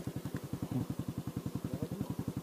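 A broken-down Yamaha R15 motorcycle idles with a steady, rapid thumping pulse, close and fairly loud, its engine running rough and unchanging.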